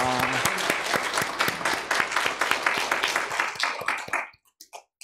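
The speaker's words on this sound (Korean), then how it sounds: "또 우리 함께 다 같이 다시 한번 박수로 환영하겠습니다" A church congregation at a Sunday service gives a warm round of dense, lively applause to welcome returning members and visitors, fading to a few scattered claps at the end.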